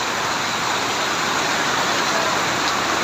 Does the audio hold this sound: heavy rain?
yes